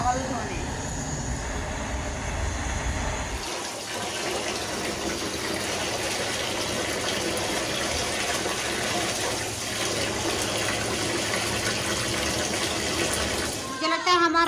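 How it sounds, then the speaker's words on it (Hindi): Tap water runs steadily while rice is washed in a home kitchen, a continuous gushing and splashing flow that holds at an even level for most of the clip, with a brief change near the start and end. "जब पानी गर्म होता है तब तक हम जो है चावल धो लेते हैं।"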